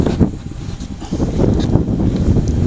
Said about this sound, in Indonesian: angin ini kok banter ini mati ya